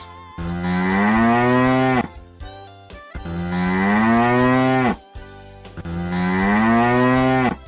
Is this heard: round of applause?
no